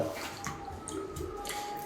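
Water sloshing and swishing in a container as something is mixed in by hand, soft close splashes and drips in short uneven bursts.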